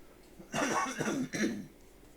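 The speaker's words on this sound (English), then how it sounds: "sorry about all the coughing this morning." A single fit of coughing, two or three harsh bursts in quick succession, fairly close and at moderate volume against quiet room noise.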